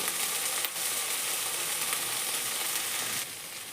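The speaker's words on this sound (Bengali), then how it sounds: "এই মশলাটাকে একটু ভাজা ভাজা হতে দেবো" Steady, dense sizzling of spices including turmeric frying in a hot pan for prawn malai curry, continuous throughout and dropping slightly quieter near the end.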